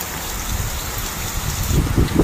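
Heavy rain pours down outside an old, run-down sack-walled house, a dense, loud, continuous rush with low rumbling gusts swelling near the end.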